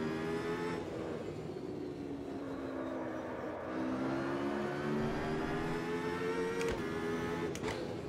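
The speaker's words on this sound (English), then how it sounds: "It's not a screaming V10, but it's a nice sounding V10." A V10 race car engine in the racing game Automobilista revs and holds a smooth, steady drone whose pitch climbs gradually. It is heard close and alone, with brief sharp shifts near the end.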